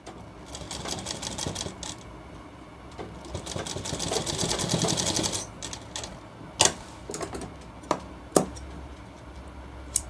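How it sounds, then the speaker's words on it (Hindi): A sewing machine stitches a shirt collar in bursts of rapid, rattling needle action that run for several seconds, then fall quiet, with a few sharp clicks and knocks afterward. "इस प्रकार दोनों साइड सिलाई अटैच करें, इस साइड भी और इस साइड भी।"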